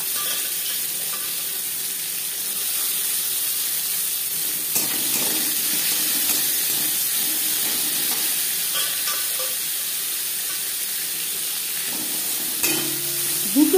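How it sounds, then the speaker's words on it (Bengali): Chopped onions from two large bulbs frying in oil with cumin seeds, a bay leaf and dry chilli for moong dal with fish head, a dense, steady hiss of sizzling throughout with occasional stirring clatters, loudest near the end. "জিরে ভেজে নেওয়ার পর দিয়ে দেবো পেঁয়াজ কুচি"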